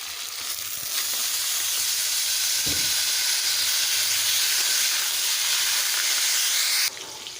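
Taro stems dropped into hot oil tempered with nigella seeds and green chilli, bursting into a loud, bright hissing sizzle that holds steady for several seconds before dropping off abruptly near the end.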